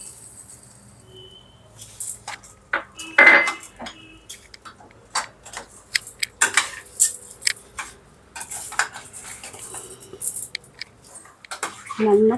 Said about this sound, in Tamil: இப்போ 1 கப்பு கல்கண்டு போடணும்.